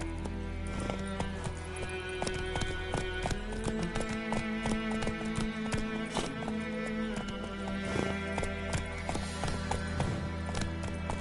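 Roach, a horse in a video game, gallops in a steady fast rhythm of hoofbeats from start to finish, with an occasional snort or whinny.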